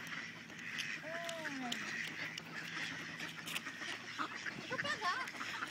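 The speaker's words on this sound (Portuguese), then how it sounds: "Olha a quantidade de patos" Ducks quack and chatter in a faint, busy outdoor scene in Fredensborg, with a few distinct calls rising over a low background murmur and distant voices.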